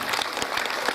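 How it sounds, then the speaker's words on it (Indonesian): Brief burst of dense audience clapping at a fisheries aid event in Gorontalo, steady and moderately loud for about a second. "Tepuk tangan untuk Pak Rumkono."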